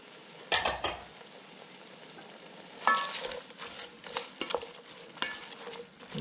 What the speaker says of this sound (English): give this just a gentle stir.